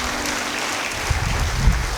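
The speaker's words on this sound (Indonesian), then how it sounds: "Yang percaya beri tepuk tangan bagi dia." Church congregation clapping during a sermon, a steady dense wash of applause that swells slightly toward the end, with no voices over it.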